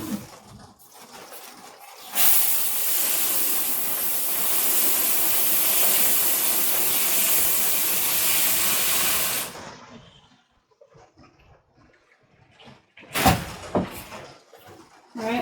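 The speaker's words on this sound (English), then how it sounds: "So I'm just gonna spray a little bit of water in it." Steady hissing spray of water misted onto dry organic potting soil in a greenhouse on a rainy day, loud and continuous for several seconds, then stopping, followed by a few short rustling handling sounds.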